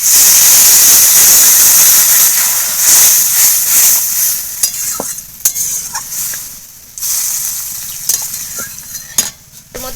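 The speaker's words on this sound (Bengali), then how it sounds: "টকটা খুব ভালো করে একদম ফুটছে" A sour Bengali fish curry with green mango boils hard in a pan, giving a loud, close bubbling hiss and sizzle, with occasional clinks of a spoon stirring against the pan.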